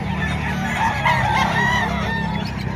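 Chickens and crowing roosters packed together at a live poultry market in Padre Garcia, Batangas, a steady din of clucking with a rooster crow rising partway through, close and continuous over low background chatter.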